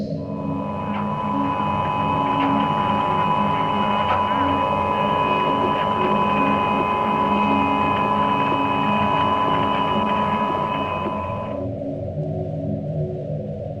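A NASA space audio recording laced with radio interference gives a loud, continuous electronic drone with steady whining tones layered over low hum; the higher tones drop out near the end while the hum carries on.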